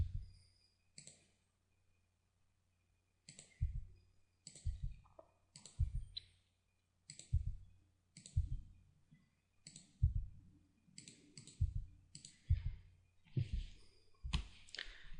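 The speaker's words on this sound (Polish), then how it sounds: "Kliknąć przed tekstem i nacisnąć tabulator." Mouse clicks and Tab key presses while editing a document in Microsoft Word 2010, sharp close taps in irregular bursts with short gaps, sometimes in quick pairs, alone in a quiet room.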